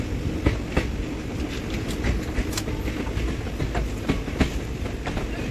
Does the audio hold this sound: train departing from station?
yes